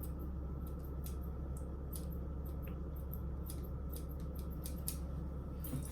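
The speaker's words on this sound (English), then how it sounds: "now I'm gonna brush everything over to the side and up and trim again" Scissors snip steadily through a Yorkie's fur during a pet trim, a run of quick, light, close cuts in an uneven rhythm over a constant low hum.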